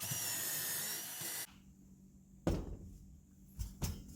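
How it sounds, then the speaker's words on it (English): A power drill whines loudly for over a second while drilling through wood for a closet organizer, then stops, followed by a few knocks and handling thumps. "Drill down through there."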